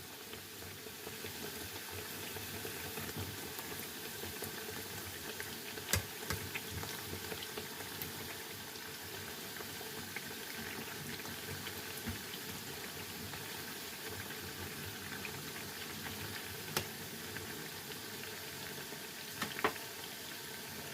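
Thattai vadai, Jaffna-style flat crisp lentil fritters, frying in boiling oil, giving a steady dense bubbling hiss throughout with a few faint clicks, close and continuous with no talking.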